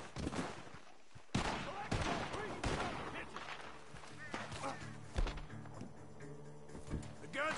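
Gunfire rings out from a barn in Red Dead Redemption 2, sharp repeated shots scattered through a busy game scene with music and other sounds.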